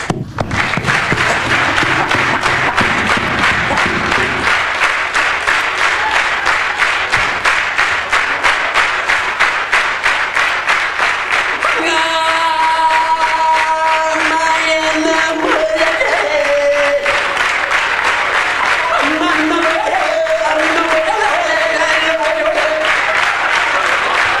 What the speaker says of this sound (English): clap your hands, I'll do one last song.